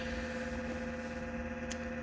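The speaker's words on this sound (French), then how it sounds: "je suis désolée pour le bruit de l'ordinateur" A computer gives off a steady electronic hum and whine, a continuous low drone with faint tonal buzzing and no voices over it, with a brief higher click near the end.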